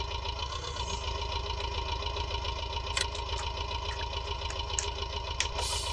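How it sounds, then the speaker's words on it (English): Tractor engine idling in a farming simulator game: a steady low mechanical rumble with a regular pulsing throb, constant and close, with a few faint clicks and ticks on top and no talk. "get on the tractor."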